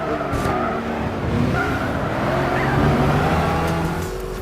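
Race cars in Gran Turismo 6 on PS3 roar continuously, with engines revving and tyres squealing in a loud, steady, close mix and no talking.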